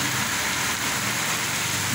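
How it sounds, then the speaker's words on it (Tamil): Heavy rain falls in a dense, unbroken hiss, loud and even throughout with no voices. "இப்போ மழை கொஞ்சம் அதிகமாக இருந்துச்சு"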